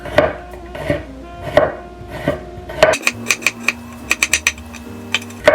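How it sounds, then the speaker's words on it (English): Knife chopping garlic cloves on a cutting board, slower spaced thunks at first, then a quick run of crisp close chops, loud and alone without talk. "I'm gonna chop up a clove of garlic"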